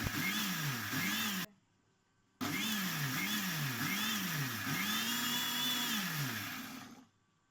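A mixer grinder blends homemade mayonnaise from egg and oil, its loud motor whine wavering in pitch through a short burst, a brief stop, then a long steady run that winds down near the end.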